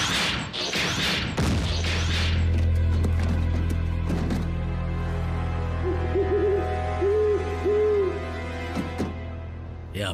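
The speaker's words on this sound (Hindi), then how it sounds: "या फिर एक उल्लू" An owl hoots in an animated Transformers Rescue Bots episode, a few short wavering calls standing out against a steady musical background, with no talking.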